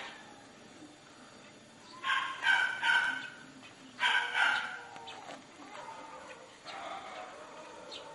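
Dogs at a rescue centre kennel area in the Philippines, a few barks and yelps in separate bursts at moderate distance, heard against a steady background hiss with faint voices.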